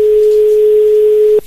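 A steady, loud single-pitch telephone tone drones unbroken on a prank call after the caller rings again, cutting off abruptly near the end.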